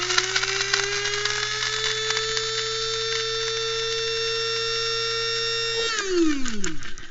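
A motor whines at a steady high pitch as a blender grinds sesame seeds into oil-free tahini, loud and close for several seconds before spinning down at the end, with no talking.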